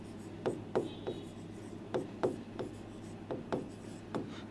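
Chalk strokes on a classroom board during a physics lesson, about a dozen short taps and scrapes in uneven bursts, close and clear over a quiet room hum.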